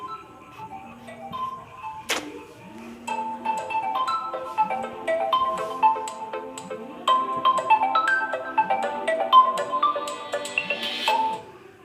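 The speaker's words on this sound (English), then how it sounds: "my phone was ringing." A mobile phone ringtone plays a bright, tinkling melody of repeated chiming notes over a steady pulsing ticking pattern, fairly loud and continuous for about twelve seconds with no talk.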